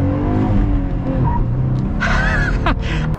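A manual-transmission Jeep Gladiator pickup accelerates loudly, its engine note climbing through a rev with a whining, squeal-like rise near the end.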